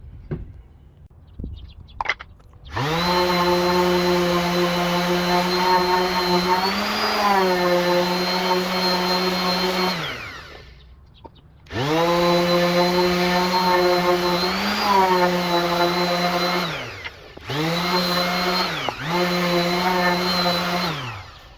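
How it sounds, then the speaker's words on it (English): A power sander runs on a Douglas fir board in three bursts, a loud steady whine with sharp starts and stops, the middle pass longest and a short final burst, with no talk over it. "I'm going to sand it one more time just to make sure it's safe."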